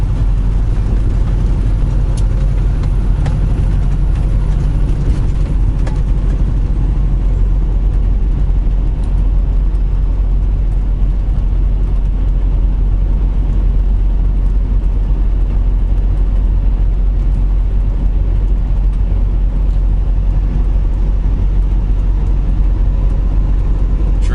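Car crossing the Tennessee River bridge at dawn, a loud steady interior road rumble with deep low engine and tyre drone that continues unbroken for the whole stretch, with no talk.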